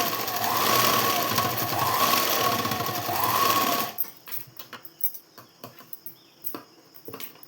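A sewing machine stitches a blouse piece, running loud and continuous for about four seconds before stopping, followed by quieter scattered clicks and handling noises.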